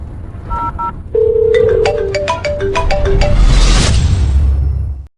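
A telephone dials and rings, a run of quick beeping key tones followed by an electronic ringtone, loud and near over a rumbling background.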